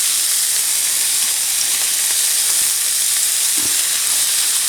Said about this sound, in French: Je fais revenir l'échalote hachée.